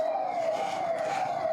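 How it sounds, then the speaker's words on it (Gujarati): An ambulance siren wails in a steady rising and falling tone during a hospital fire mock drill, fairly faint and brief with no talk over it. "અત્યારે અહીંયા એક એમ્બ્યુલન્સ આવી છે અને એ એમ્બ્યુલન્સ દ્વારા બચાવની કામગીરી કરવામાં આવી રહી છે."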